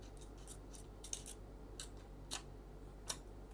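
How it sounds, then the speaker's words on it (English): Scissors snipping paper for a collage at a live art workshop, a few faint, separate crisp cuts spaced about a second apart over quiet room tone. "Cut this part and then cut that one also."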